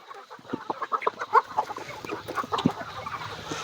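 Many chickens, country hens and about 200 to 250 roosters on a farm, clucking over one another in a busy, continuous chorus, close and fairly loud, with no talking.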